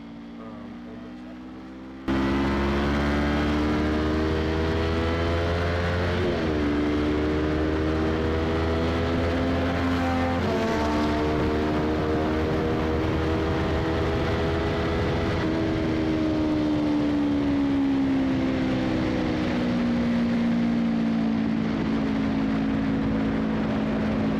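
A car engine held at full throttle through fast corners at Inde Motorsports Ranch, a loud steady drone heard close up whose pitch rises and dips gently with the revs. It runs unbroken for over twenty seconds.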